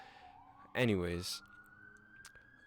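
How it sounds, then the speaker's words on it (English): An ambulance siren sounds outside, a sustained tone drifting slowly upward and heard from a distance, while a voice briefly speaks over it. "I think that's the ambulance"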